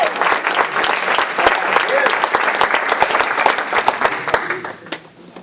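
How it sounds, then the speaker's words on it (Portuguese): A church congregation breaks into loud, dense applause at a Sunday women's congress service, many hands clapping together close by and steadily, thinning out near the end. "Aplauda a palavra do Senhor"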